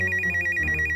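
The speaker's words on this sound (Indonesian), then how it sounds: "Oh, Ceratna telepon Bu Yoyo" A telephone ringtone rings in a steady repeating electronic pattern of short pulses, fairly loud and alone without talk, as a call comes in during a sitcom scene.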